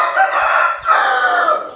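Several chickens and a rooster call out continuously at a feeding spot, a loud, dense layer of clucking and crowing that dips briefly midway and then resumes.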